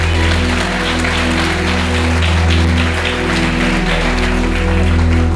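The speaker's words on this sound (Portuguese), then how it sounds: "Aplauda aí, irmão." Church congregation applauding together during a sermon, loud continuous clapping with steady low tones underneath from music or an instrument.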